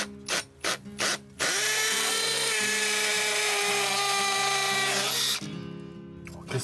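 A power tool whirs steadily as screws drive an L-angle bracket, fastening timber to concrete during a kitchen renovation, preceded by a few short bursts, close and loud with no talk.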